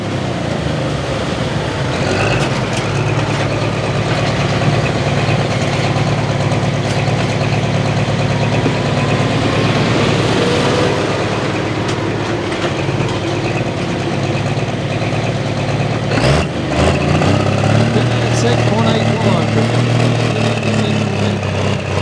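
A John Deere 6030 pulling tractor at a tractor pull event rumbles at a loud, heavy idle with swelling revs, against crowd and arena noise and a brief sharp burst midway.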